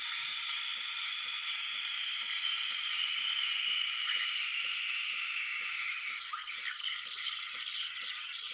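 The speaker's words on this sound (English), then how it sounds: "this actually takes about 45 to 50 seconds to steam your milk" A steady, loud hiss of a DeLonghi La Specialista Prestigio EC9355 steam wand frothing milk, with a faint rhythmic rattling ticking underneath throughout.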